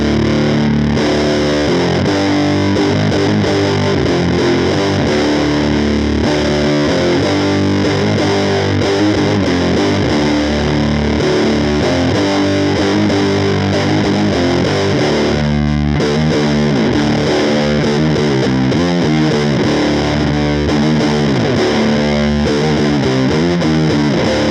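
An electric guitar plays through a Donner Stylish Fuzz mini pedal with every knob at noon, producing a thick, saturated, heavily distorted tone with sustained doom-style chords that fill the whole passage continuously.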